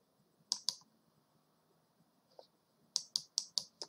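Keyboard keys typing a chat message during an online chess game: two sharp clicks, a pause with a faint tap, then a quick run of five or six keystrokes, close and fairly quiet with no talking.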